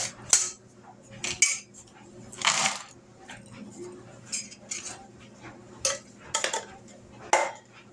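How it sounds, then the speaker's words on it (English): Cashews tumble into a pan for candied mixed nuts, a few sharp rattling clatters and clinks spaced over several seconds against a quiet background. "I've got cashews. I'm going to dump these in there."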